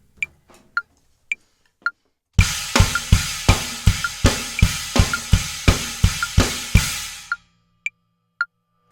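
A drum kit plays a 2-against-3 polyrhythm groove, snare landing with kick and china, loud and close in an even run of heavy crashing hits, with sparse light clicks before and after.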